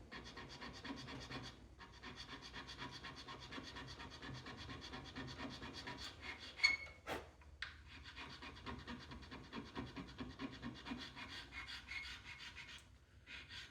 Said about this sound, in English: what you're seeing there is the horn being so hard I can barely cut it